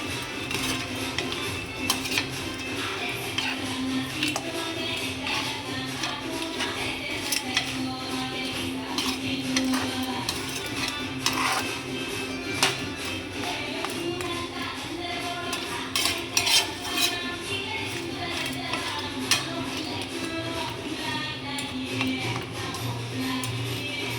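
Coriander powder being stirred into food cooking with cabbage in a pan, with continuous clinking and scraping of a metal spoon over a low sizzle, close and busy throughout.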